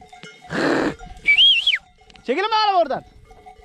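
A sheep gives a couple of loud, close, wavering bleats, mixed with a whistle and a man's short call in a quiet outdoor setting.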